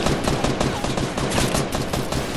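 Rapid gunfire from the video game Fortnite crackles in a dense, loud, continuous stream of shots, close and sustained with no pauses.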